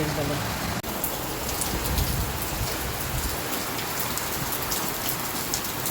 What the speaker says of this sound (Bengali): দেখুন কেমন হয়ে বৃষ্টি হচ্ছে দেখুন হুম এইভাবে বৃষ্টি হয়েছিল